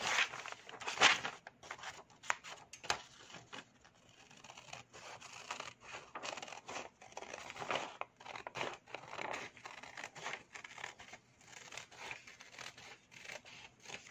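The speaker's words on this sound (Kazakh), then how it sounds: "Енді осы шыққан, дайын шыққан деталімізді, макетімізді қиып аламыз." Scissors cut a paper pattern for a wrap skirt, making close, quiet snips and paper crinkling in an irregular stream of crisp bursts, with no speech over them.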